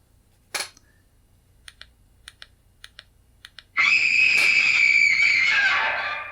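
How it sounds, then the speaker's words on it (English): A loud, piercing scream opens the 1959 film House on Haunted Hill, bursting in suddenly and holding for a few seconds after a run of faint keyboard-like clicks. "It starts with a scream, by the way. A very loud scream."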